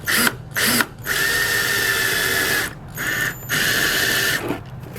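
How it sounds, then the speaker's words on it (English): A power drill whirs steadily in several bursts, with brief pauses between runs as it bores through material, close and loud. "I'm going to just slowly drill my hole."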